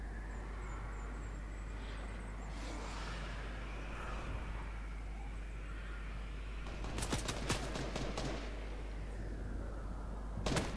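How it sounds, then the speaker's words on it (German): Gunshots in the Fortnite video game, a cluster of sharp rapid cracks followed later by another brief burst, over a low game ambience. "Da kamen Schüsse, die ersten."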